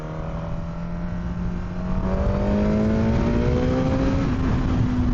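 A 2026 Suzuki GSX-R1000R sport motorcycle engine revs loud and close, its whine climbing steadily in pitch as the revs build.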